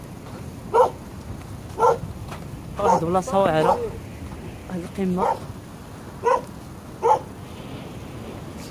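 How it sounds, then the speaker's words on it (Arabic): A dog barks outdoors in single sharp barks spaced a second or so apart, moderately distant, while someone talks over parts of it against a steady hiss. "يبان لينا واحد الكلب هنا"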